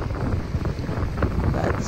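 Strong wind buffets the microphone by the ocean on a cold, sunny day in Tasmania, with a steady low rumble and gusty roar and no voices.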